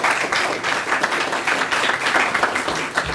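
An audience at a career signing ceremony for a high school student applauds. The clapping is dense and steady, rising and falling gently over about three seconds, with no talking over it.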